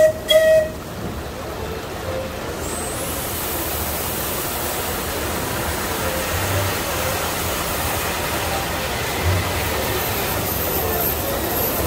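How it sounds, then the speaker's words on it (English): A passing train at the Knott's Berry Farm theme park gives a steady, fairly loud broadband rumble and hiss. It holds evenly for about twelve seconds after a brief knock at the start. "There's the train."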